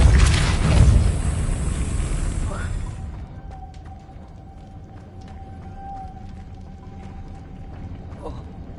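A Depulso force spell cast in Hogwarts Legacy opens with a loud, broad burst of rumbling, booming energy that fades after about three seconds. A quieter magical ambience with a faint tone and scattered ticks follows.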